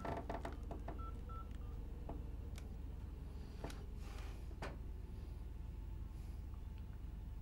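A mobile phone handset being dialed, a quick run of several DTMF keypad tones followed by a few more spaced beeps, fairly faint over a steady low background hum, no voices.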